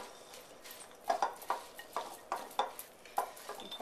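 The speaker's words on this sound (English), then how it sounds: "And just stir." Utensil stirring chicken salad with dressing and mayonnaise in a bowl, a run of soft, irregular scraping and clinking strokes close by, with no talk.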